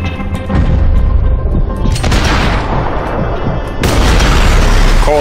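Gunfire and booming shots in the video game Max Payne 3, loud bursts and rumbling blasts packed close together, with a voice talking over part of it.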